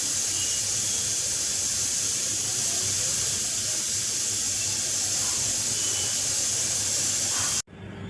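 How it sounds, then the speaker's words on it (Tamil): Loud, steady sizzling and hissing of tomatoes frying in hot oil, continuous throughout and cutting off abruptly just before the end. "தக்காளி குதிச்சிட்ருக்கு"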